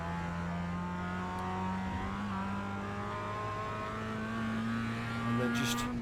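Mazda MX-5 race car in iRacing at Lime Rock Park, engine droning and climbing steadily in pitch under throttle as it pulls uphill, with a brief gear change midway and some faint tire noise near the end.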